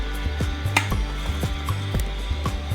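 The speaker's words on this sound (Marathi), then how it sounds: "आता आपल्याला वांगे कापून घ्यायचे आहेत।" A knife cuts eggplants in a home kitchen, each stroke a crisp, evenly spaced chop repeated about seven times over a steady background hum.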